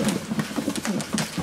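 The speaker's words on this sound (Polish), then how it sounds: "Też bardzo ładny gołąbek." Pigeon cooing from a hen of an Aarden and Merx cross line, a racing pigeon in a loft. Soft, close, repeated low coos pulse in a steady rhythm with no voices over them.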